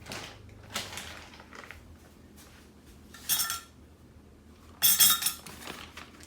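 Metal measuring spoons clink together twice in a home kitchen during soup prep, each a short, bright jingle over a faint, quiet background.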